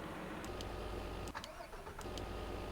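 Tractor engine in Farming Simulator 2016 cranks and catches, a low continuous rumble that stutters briefly at the start before settling into a steady idle, heard alone at low level.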